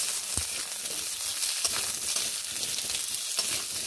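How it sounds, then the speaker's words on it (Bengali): Potato pieces fry in oil in a pan, giving a steady close sizzle with light crackling and occasional stirring scrapes, no voices. "আলুগুলোকে প্রথমে ভালো করে ভেজে নেব।"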